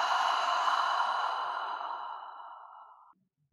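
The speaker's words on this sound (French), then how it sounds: "Et expire par la bouche." A long, steady breath pushed out through the mouth during a yoga routine, close and fairly loud, fading gradually over about three seconds before falling silent.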